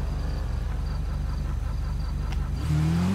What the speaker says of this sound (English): I have to start my vehicle.